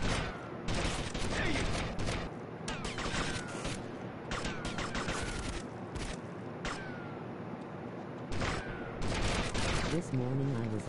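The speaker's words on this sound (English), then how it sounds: "This shit's like rapid fire." Rapid automatic gunfire in Grand Theft Auto: Vice City crackles almost nonstop, loud and close, in a dense fusillade with brief lulls and a faint voice mixed underneath.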